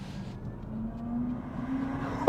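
A Kia EV6 electric car accelerating hard, its faint motor whine and road hum swelling steadily over a couple of seconds.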